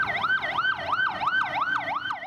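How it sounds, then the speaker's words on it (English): Ambulance siren in Karachi wails in a fast, repeating up-and-down cycle, loud and fairly close, with no talk over it. "An ambulance rushes to Karachi's largest morgue."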